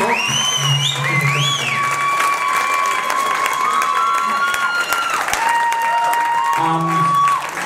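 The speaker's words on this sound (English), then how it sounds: "Let's give him a massive round of applause," Audience applause and cheering at an evening music concert, sustained clapping with whoops, mixed with a voice speaking or singing over it throughout.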